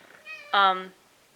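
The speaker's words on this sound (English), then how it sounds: "That's what she just said in meow language." A pet cat gives one clear, rising meow close to the microphone, preceded by a softer quieter mew, with no talking over it.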